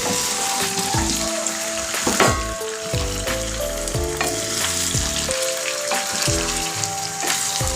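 Broiler chicken meat, about a kilogram, frying over a medium gas flame in a pan, hissing steadily while being stirred, with repeated scraping strokes of the spoon against the pan throughout.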